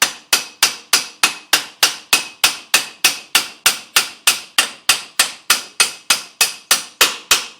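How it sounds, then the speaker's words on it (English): Steady, evenly spaced metallic hammer blows, about three per second, drive a 1998 Subaru Impreza rear axle out through the wheel bearing, sharp and close with no talking. "The axle slides through on a spline, but you still got to give it a little bit of a hit to loosen it."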